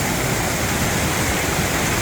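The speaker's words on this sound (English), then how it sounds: "There's a small waterfall up there" A small waterfall on a washed-out hiking trail at Mt Rainier gives off a loud, steady broadband rush of falling water. It sounds close and continuous, with no voices over it.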